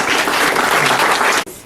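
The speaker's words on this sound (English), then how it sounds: "First of many rounds of applause." A crowd at a graduation and awards ceremony claps loudly in a dense, even burst that cuts off sharply after about a second and a half.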